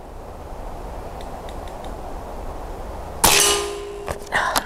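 A .25 calibre pellet from a Kral Puncher Breaker Silent Marine PCP air rifle strikes a target with a sharp metallic clang, followed by a couple of fainter ringing knocks.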